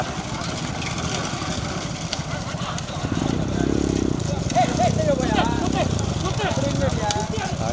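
Horses pound along during a race in Pudukkottai district, with steady hoofbeats under loud crowd shouting and a motor engine humming nearby.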